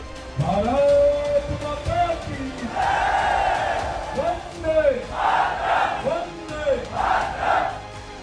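A crowd of supporters for the politician Ravindra Bhati chants and cheers in rhythmic swells, loud shouted calls rising and falling in repeated bursts, close and energetic.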